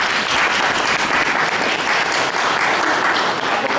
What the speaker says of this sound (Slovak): Mário, poďakujeme za teba ešte Pánu Bohu potleskom